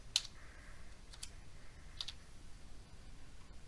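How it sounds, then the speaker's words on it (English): Sparse, faint clicks from a computer keyboard as someone begins typing, a few isolated keystrokes spaced out over a quiet background. "it's a whole lot easier to start typing in"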